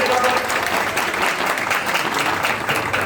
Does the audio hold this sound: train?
no